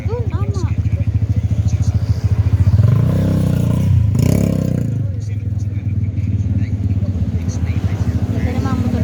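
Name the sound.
motorcycle engine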